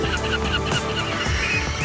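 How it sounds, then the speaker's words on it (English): Flock of seabirds arriving to breed in Svalbard, a dense chorus of overlapping goose-like honking calls that is loud and continuous throughout. "It's the signal for millions of seabirds to fly in from the south to breed."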